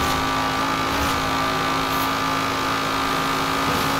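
A 2016 Dodge Viper ACR accelerates hard in Forza Horizon 4, its engine a loud, sustained high-revving roar holding steady throughout, with no talk.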